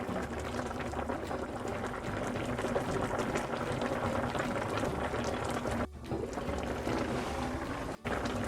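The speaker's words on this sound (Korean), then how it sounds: "지금 맛있게 졸여지고 있거든요" Braised dried pollock (kodari) in sauce with radish simmering over medium heat, a steady close bubbling and gentle sputtering that goes on without break, with no talking.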